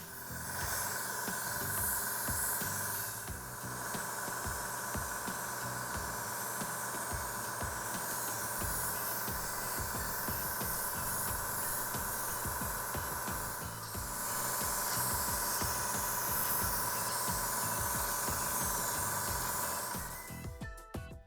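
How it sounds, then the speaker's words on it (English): An airbrush hisses in steady spraying bursts while painting the base of a 1/700 scale ship model diorama, broken by short pauses, with a continuous close-up hissing texture throughout. "protect it from the paint I will now be spraying"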